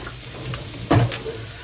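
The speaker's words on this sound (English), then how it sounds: "I got the green chili sweating right here." Hatch green chili sweats in a pan with a soft continuous sizzle, a brief louder stir or clatter near the middle, and no talking.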